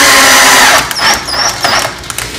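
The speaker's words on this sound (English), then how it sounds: "I'll put in one screw. Try and go straight up and down as you push this in so it doesn't" A power drill drives a 3-inch screw into a heavy-duty wooden shelf, its loud steady whine running for most of the moment before easing into a few shorter bursts.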